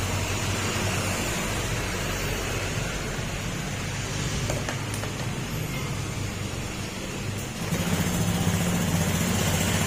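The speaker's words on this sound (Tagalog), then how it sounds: "Ayan, yan yung tunog nung makina." A motorcycle engine runs with its CVT cover removed, a steady, close, low mechanical drone with a rough buzzing rattle that holds at a constant idle throughout.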